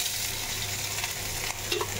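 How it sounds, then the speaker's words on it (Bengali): Onions fry in a pan with a steady, fairly quiet hiss, close by and unbroken, with faint stirring touches near the end. "এখানে একটু পেঁয়াজ ভাজতে দিয়েছি"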